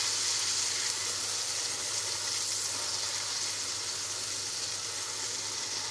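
Finely ground onion frying in hot oil in a pan, a steady close hiss and sizzle that holds evenly throughout with no one speaking.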